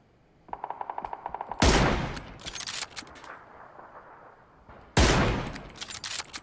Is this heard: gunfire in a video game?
yes